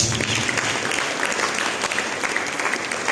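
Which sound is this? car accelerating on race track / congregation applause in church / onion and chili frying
congregation applause in church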